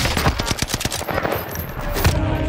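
Rapid automatic gunfire in Call of Duty Modern Warfare (2019) fires as a fast, close, loud burst of evenly spaced shots. The shots then blur into a sustained rumble with a few heavier thumps.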